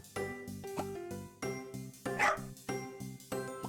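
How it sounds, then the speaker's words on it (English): An excited puppy in a video game gives a run of repeated high yips and barks in quick bursts, loud and close, with a short whine partway through. "That's an excited puppy."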